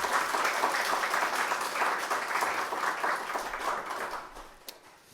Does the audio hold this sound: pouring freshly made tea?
no